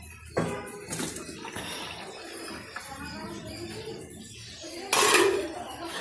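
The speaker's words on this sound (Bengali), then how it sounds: "অলমোস্ট আমাদের পাস্তাটা কুক হয়ে গেছে, তো এটাকে একবার ঢেলে নেব আমরা এখানে।" Cooked pasta is tipped out of a pot with metallic clanks and a splashing rush of water, close and loud, with a sharper pour burst near the end.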